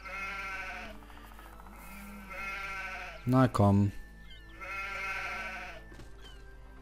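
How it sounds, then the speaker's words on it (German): Sheep in the Anno 1503 video game bleat in several wavering calls across the clip, fairly close and clear, while someone speaks briefly between them. "Diese Schafe."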